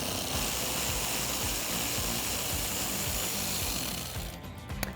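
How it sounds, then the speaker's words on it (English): A 10mm socket on a power tool works a bolt loose in the fender well of a 2016-2021 Toyota Tacoma, a steady close whirring grind running almost the whole time before cutting off at the end. "I am going to take a 10mm socket and remove the one up top"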